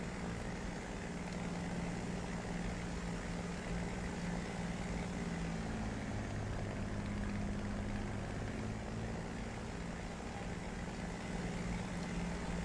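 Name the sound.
aircraft engine in flight, from a flight sim video game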